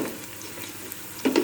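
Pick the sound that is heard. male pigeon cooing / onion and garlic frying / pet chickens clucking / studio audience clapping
onion and garlic frying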